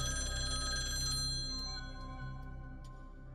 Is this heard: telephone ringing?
yes